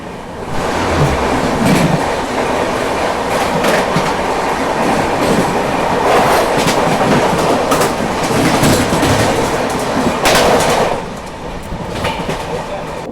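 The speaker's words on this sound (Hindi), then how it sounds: "चलिए एक और क्रॉसिंग और ये है आपकी विदर्भा सुपरफास्ट एक्सप्रेस" Vidarbha Superfast Express passing at a railway crossing, a loud, continuous roar of coaches with rhythmic clickety-clack of wheels over rail joints, heard up close.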